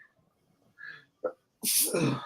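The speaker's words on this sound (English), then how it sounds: "Oh, sneezing." A sharp sneeze bursts out after a soft intake of breath, loud and close, followed by a breathy trailing exhale.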